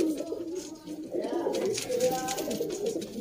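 Sialkoti pigeons, the 35 breed, cooing in low, soft rolling calls that repeat continuously near the microphone.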